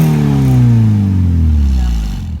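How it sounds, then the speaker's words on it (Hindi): A Hyundai i20 fitted with a full-system aftermarket exhaust revs up close and loud, the engine note sliding down steadily as the revs fall away before fading out. "सो ये आप लोगों की गाड़ी की एग्जॉस्ट की साउंड है"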